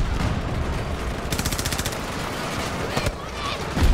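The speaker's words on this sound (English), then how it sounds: "This guy with his bloody Gatling gun." Gatling gun in the shooter game Battlefield 2042 fires rapid, evenly spaced bursts over a busy mix of other gunfire, with the steady rattle standing out in the middle of the clip.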